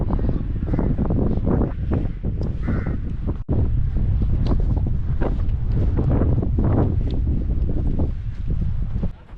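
Cold mountain wind on a Himalayan trek toward Pangarchulla buffets the microphone in heavy, rumbling gusts that continue throughout, with a brief dropout partway through and faint voices mixed into the roar.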